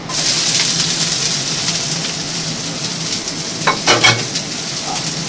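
Ham, bacon and mixed vegetables stir-fry over a high flame in a wok for fried udon, giving a steady, close, dense sizzle with a short burst of clattering stirring near the end. No one speaks.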